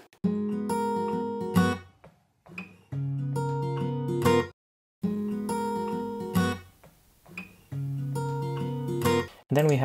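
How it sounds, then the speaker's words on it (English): An acoustic guitar captured on a 1988 cassette tape recorder plays short phrases of plucked notes that ring and decay, separated by brief pauses under a light layer of hiss. "Now let's hear the acoustic."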